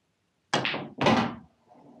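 A pool cue strikes the cue ball to pot the black into a corner pocket, heard as two sharp, loud knocks about half a second apart, close by, followed by quiet.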